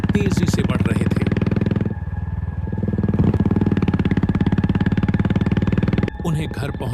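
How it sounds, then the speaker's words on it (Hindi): A motorbike carrying two riders speeds along a deserted village road at night, its engine droning steadily and loudly throughout, while a voice narrates over it. "विशाल और मोहित अपनी बाइक से गांव की सुनसान सड़क पर तेजी से बढ़ रहे थे।"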